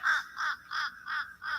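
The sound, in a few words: bird calling, like laughter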